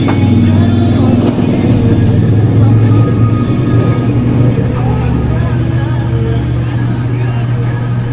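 A motorized tricycle's engine drones steadily and loudly at close range, a low continuous rumble with faint voices mixed in.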